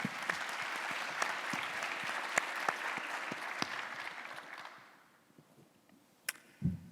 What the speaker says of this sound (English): So please join me in giving him a welcome applause